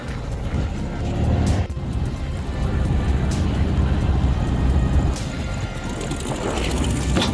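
A 1961 VW Beetle engine on a cold day runs under light, feathered throttle, a steady rough rumble with small swells, heard close amid road and wind noise.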